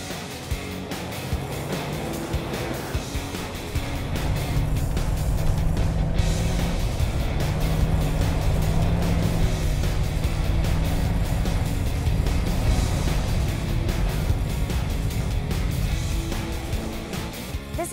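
A Toyota car runs through water on a wet test track, with a continuous rushing hiss of spray and tyre noise that swells louder midway and then eases, close and without speech.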